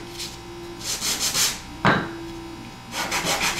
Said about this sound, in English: I'm just going to give a quick rub on the sandpaper